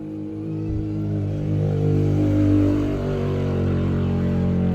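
Motorcycle engines rev loudly and steadily nearby, a continuous droning roar that swells and holds for several seconds with no talking.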